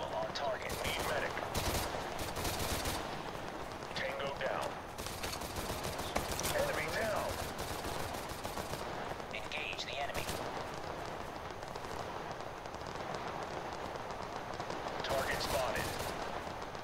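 Sustained gunfire from the video game Total Conflict, with rapid automatic bursts and scattered shots crackling over a dense battle din, accompanied by game radio chatter and voices talking throughout.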